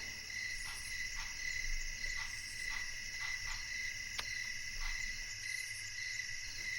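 Crickets chirping in steady pulsing trills, a continuous bright insect chorus with regular repeated chirps at moderate distance and no speech.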